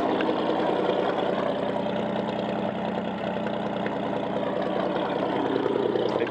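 A 1952 Chevy 3100 engine idles steadily with a carburettor fault, giving a continuous, even mechanical drone with a faint ticking pulse, heard up close and alone.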